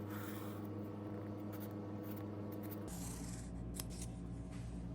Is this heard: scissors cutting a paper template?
yes